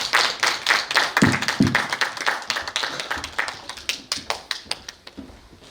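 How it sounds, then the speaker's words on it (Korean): An audience at a children's choir information session at a Buddhist temple claps to welcome the choir conductor, with crisp, even hand claps that fade out after a few seconds. "모두 큰 박수로 환영해 주시기 바랍니다"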